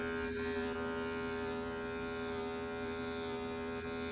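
Hair clippers fitted with a 1 guard buzz steadily while cutting a fade, giving a constant faint electric hum with no talk.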